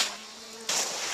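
Honey bees buzz around close to the microphone during an early-March cleansing flight, a thin steady drone that swells abruptly louder partway through as insects swarm near.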